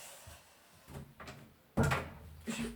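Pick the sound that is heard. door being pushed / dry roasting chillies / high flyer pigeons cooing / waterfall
door being pushed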